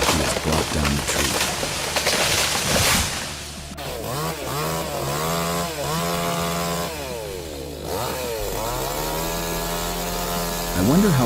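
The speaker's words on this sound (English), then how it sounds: "smoothly exploited with a small chainsaw he has brought down the tree" A small chainsaw cuts down a tree, its engine droning steadily with rising and falling revs throughout, loud and close, with no speech over it.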